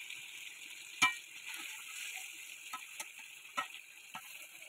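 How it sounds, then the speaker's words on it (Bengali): Meat being sautéed in oil in a home kitchen pan gives off a faint, steady sizzling hiss with a few scattered soft pops and crackles. "মাংসটা আমার ভালো করে কষানো হয়ে গেছে।"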